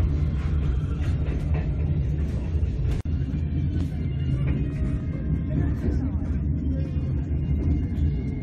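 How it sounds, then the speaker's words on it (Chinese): A train travels slowly toward Pyongyang with a steady low rumble and rattle of the carriages, constant throughout with no break. "火车龟速行驶了一下午"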